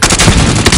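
Warzone video game gunfire: a loud, close burst of rapid shots packed into under a second.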